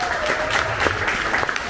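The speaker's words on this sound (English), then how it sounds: "Big applause for Cindy," A Melbourne Silicon Beach meetup audience gives brief applause for the speaker Cindy, a short burst of scattered clapping with a voice heard over it.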